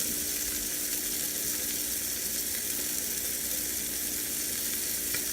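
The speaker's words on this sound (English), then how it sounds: "You want to hear that sizzle," A sesame-crusted tuna steak sears in a hot pan, giving a steady, close, continuous sizzle with no talking.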